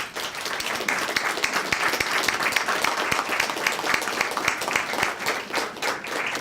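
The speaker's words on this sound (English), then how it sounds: "So if we could have all of our sponsors stand so we can give you a round of applause" Sustained applause from an audience at an event honoring sponsors, many hands clapping densely and evenly at moderate loudness throughout, with no break.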